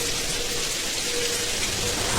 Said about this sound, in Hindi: बाहर बारिश शुरू हो गई थी।